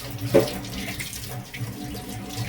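Tap water runs steadily into a sink, rinsing an aquarium heater taken from a shrimp tank, with a soft continuous splash and a brief louder spurt near the start.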